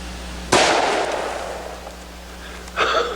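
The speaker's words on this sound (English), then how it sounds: "And now let's shoot a couple of the new 464s." A necked-down 464 Rowland handgun cartridge is fired once, a sharp loud report followed by a decaying tail, then a second burst of noise near the end, with no talk.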